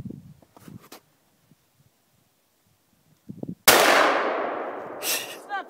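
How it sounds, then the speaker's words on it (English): A 30-06 rifle shot sets off an exploding target outdoors as one sudden loud blast that rolls away in a long echoing decay, preceded by faint shuffling and soft noises, with a brief ringing sound near the end. "Exploding target."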